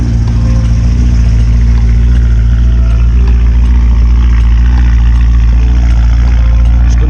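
A BMW at a car meet, either an E92 V8 or an E46, idles with a loud, deep, steady exhaust drone and a heavy low rumble, close by and continuous.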